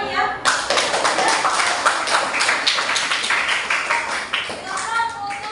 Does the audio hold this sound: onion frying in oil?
no